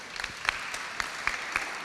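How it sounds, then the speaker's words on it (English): Applause from the audience at a European cultural heritage partnership event, a steady broadband patter of clapping with a few louder individual claps standing out, at moderate level. "And a very big applause"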